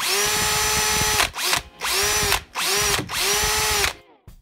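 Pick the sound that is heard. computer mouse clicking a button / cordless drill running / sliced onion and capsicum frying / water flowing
cordless drill running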